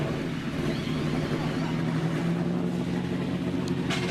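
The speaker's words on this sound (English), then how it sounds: "there's a wonderful noise as the engines fire up on pit road" Stock car engines fire up together on pit road before the 2020 Folds of Honor QuikTrip 500 NASCAR race in Atlanta, making a dense, steady, distant roar with low rumbling tones and no clear talk.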